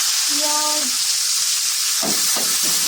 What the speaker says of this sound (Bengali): মুরগি ভাজা